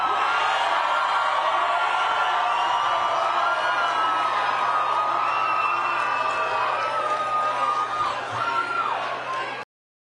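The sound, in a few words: crowd cheering at a rally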